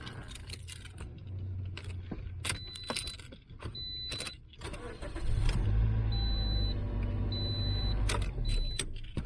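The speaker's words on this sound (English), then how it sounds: "Give a car a start." Keys jangle near a car at the door, then the engine cranks and starts about halfway through and settles into a steady low idle, with a few high alarm-system beeps over it.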